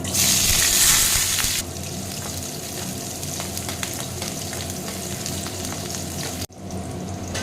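About twenty peeled small onions fry in a pan after chillies were roasted in it, a loud, bright hiss at first that settles into a steady, softer sizzle with faint stirring scrapes and no talking.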